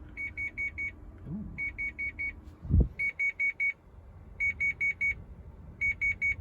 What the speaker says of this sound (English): Try the buzzer on it.